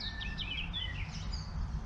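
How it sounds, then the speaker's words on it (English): Several birds sing bright, quick chirps and warbling phrases over a low, steady rumble of wind or traffic. "Listen to them birds."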